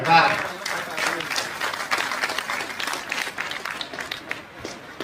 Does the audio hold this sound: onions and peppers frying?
no